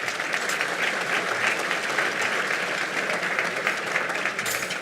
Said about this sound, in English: Please give them your round of applause.